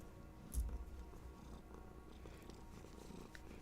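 A house cat purrs right up against the microphone, a soft low rumble that runs steadily throughout, with a brief louder snuffle near the start as it sniffs.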